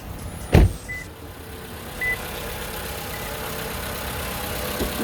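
A warm 2015 Toyota RAV4 engine idling steadily with a low, even hum after a sharp thump near the start, a couple of faint brief beeps sounding over the continuous drone.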